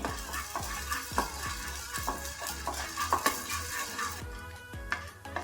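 Half a spoon of black peppercorns dry-roasting in a pan for moringa chutney powder, with quick rhythmic scraping and stirring strokes and light rattling, close and fairly quiet.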